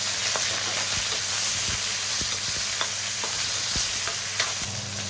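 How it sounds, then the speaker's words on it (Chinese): Scallion and ginger are stir-fried in hot oil with a loud, continuous sizzle, punctuated by repeated sharp clicks and scrapes of a spatula against the wok, close up and without voices. "葱姜爆香"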